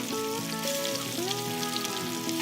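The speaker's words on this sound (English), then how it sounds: "as I put them in, as you would expect in frying, they're just gonna start bubbling right away" Chicken wings dropped into hot oil for restaurant-style wings fry with a steady, dense sizzle and bubbling crackle throughout, close and continuous, with faint tonal background sounds underneath.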